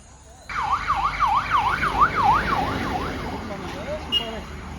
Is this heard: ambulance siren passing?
yes